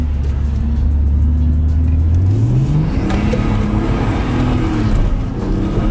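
A Nissan R33 Skyline's engine revs hard with the turbo spooling quickly, a loud, steady drone whose pitch climbs sharply midway and holds high, close up from inside the car.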